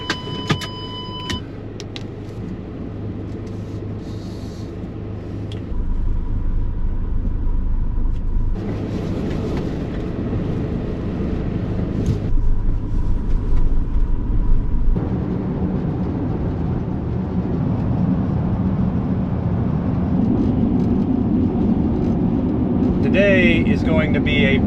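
A van drives along the road at steady speed, its engine and tyre rumble forming a continuous loud drone that thickens and shifts as it goes, with occasional rattles and clicks inside the cabin.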